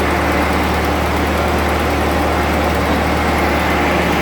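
A tractor with a front end loader and PTO idling, a loud, steady low engine rumble with constant mechanical drone throughout, close by.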